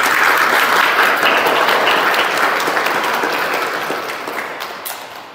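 A congregation at a Christian wedding in a village in Assam claps together in loud, steady applause, a dense patter that fades gradually toward the close.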